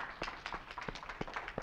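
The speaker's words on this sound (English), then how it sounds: "let's give them a round of applause." Scattered hand claps from a small audience at a furry yoga session at a convention, sharp separate claps at an uneven pace, fairly faint and with no talking.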